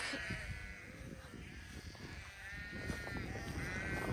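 Sheep that have strayed from their paddock bleat repeatedly under a steady background of wind or rustling noise, with several drawn-out calls at moderate distance.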